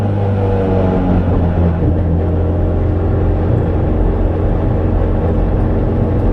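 The engine of a Nissan S13 drift car rumbles loud and steady from close by, holding a sustained drone throughout with no speech.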